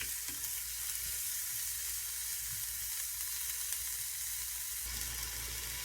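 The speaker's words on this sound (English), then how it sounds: "Go ahead and adding a couple of full teaspoons of garlic." Garlic hits a hot pan and sizzles loudly and continuously, a close, dense crackling hiss that holds steady throughout with no voices.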